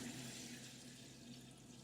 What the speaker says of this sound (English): We pour water in